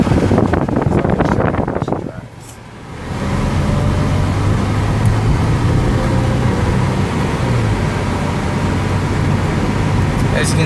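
A 2009 Buick Enclave drives along the road with steady engine hum, tire noise and wind buffeting, briefly dipping before settling into an even, continuous cabin drone.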